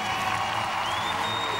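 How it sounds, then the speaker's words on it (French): Arena crowd applauding a German gymnast competing at home in an artistic gymnastics cup event, a broad, continuous wash of clapping and faint cheers heard from a distance. "il est très applaudi"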